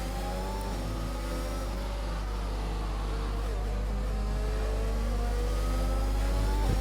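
F1 race car engines from a video game drone steadily at mid pitch through a Spanish Grand Prix sprint race. Several engines overlap in a continuous, fairly loud whine, with no pauses across the stretch.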